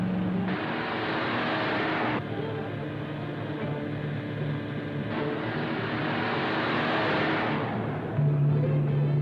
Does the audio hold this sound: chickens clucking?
no